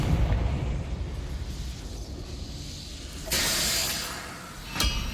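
A Confringo fire spell from Hogwarts Legacy, a low rumbling hiss followed by a sudden bright whooshing burst and a second short sharp blast near the end, with no talking.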